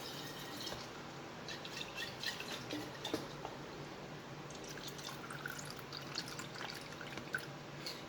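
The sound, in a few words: water poured into empty sauce bottle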